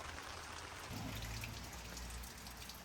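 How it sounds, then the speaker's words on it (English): Steady rain patters continuously on a building site, a soft broadband hiss with occasional heavier drops, no voices. "still raining"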